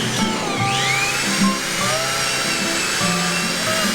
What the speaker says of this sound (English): So as we drill the hole all the way through